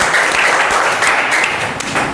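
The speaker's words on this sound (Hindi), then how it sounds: "एक बार ताली बजाओ भाई" A class of students applauds together in a classroom, a dense, steady wash of hand claps lasting a couple of seconds, fairly loud and close, with no talk over it.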